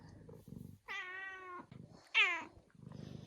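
A pet cat gives two clear, close meows about a second apart, the second louder and sharper, with soft rustling and handling noises before and after.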